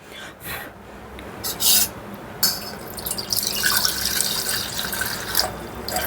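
Full cream milk, boiled and cooled, poured into a vessel for a gondh katira drink, a steady close liquid stream after a few brief handling knocks.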